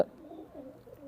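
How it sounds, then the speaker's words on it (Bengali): A kalsira pigeon, an old traditional breed, coos softly in a short low murmur that follows a brief sharp onset, heard close by with no talk. "সেই কালসিরা কবুতর কালসিরা কবুতরের চোখ"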